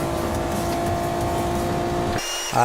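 A race car lapping Catalunya in Gran Turismo Sport holds a loud, steady engine drone, then the tone drops sharply near the end and picks up again.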